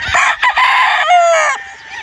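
A gray gamefowl rooster on a farm crows loudly and close, the call rising and held before trailing off, with a couple of short clucks at the start.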